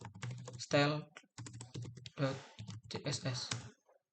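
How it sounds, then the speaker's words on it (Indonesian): Computer keyboard keys clicking in quick bursts as git commands are typed, close and fairly clear, alternating with someone speaking over and between the keystrokes. "Git add css style.css."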